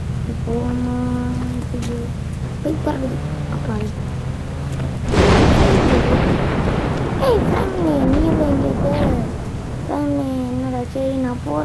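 Heavy rain and a rumble of thunder in a bike-racing video game come in as a loud, broad hiss midway, with tonal game sounds and voices talking over it before and after.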